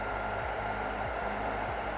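A hair dryer blows steadily at close range, a loud, even broadband whoosh with a faint motor hum, aimed at sticky residue on a cricket bat.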